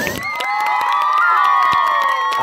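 A crowd of children and adults at an informal family gathering cheers and shouts for performers, one of them an accordion player, with scattered claps running under the loud, continuous whooping.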